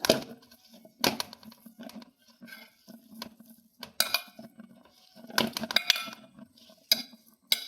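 Grated coconut and cumin being stirred in a bowl with a spoon, giving a run of close, irregular scraping and clinking taps that come in bursts with short pauses between them.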